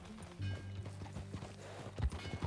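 Horse hooves clop in Red Dead Redemption 2 as riders set off, a steady close rhythm of hoofbeats over low background music with a few heavier thuds.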